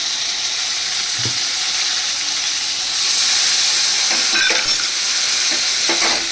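Spice masala with turmeric, salt and sugar sizzles loudly in a pan for a potato and chital fish curry, a dense steady hiss swelling as water goes in, with a few faint knocks.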